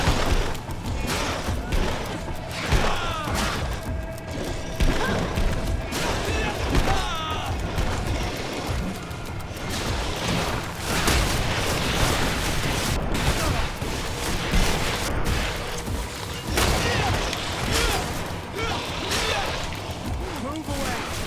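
A grenade blast in the fantasy role-playing game GreedFall, buried in dense, continuous battle noise of gunfire, clashing and shouting voices, loud and busy throughout with no distinct standalone boom.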